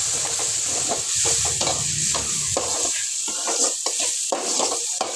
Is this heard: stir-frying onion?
yes